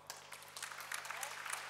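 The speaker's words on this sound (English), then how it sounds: "So please welcome both of them with a round of applause." An audience at a film festival meeting and awards event applauds in a welcome, a brief patter of clapping heard over faint talk.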